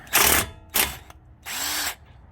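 Bauer 20V 1/2-inch cordless impact wrench spinning off a 19 mm nut from a ball joint: three loud close bursts of rapid hammering, two short ones then a longer steady run, with a brief motor whine between.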